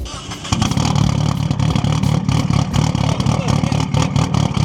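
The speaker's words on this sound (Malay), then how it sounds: "exhaust titanium, straight pipe." An Evo car with a titanium straight-pipe exhaust idles roughly, then revs loudly with a harsh, raspy exhaust note that stays close and steady.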